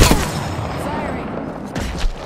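Weapon fire in Apex Legends, a loud sharp report at the start trailing into rumbling reverberation, with a couple of weaker follow-up cracks.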